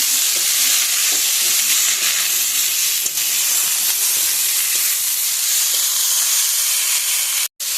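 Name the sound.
sour leaves stirred and fried in pan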